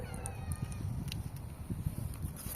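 A domestic cat gives a few short meows while being fed dry food indoors, fairly close, among soft rustling and light clatter.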